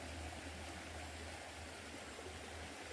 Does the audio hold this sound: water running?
yes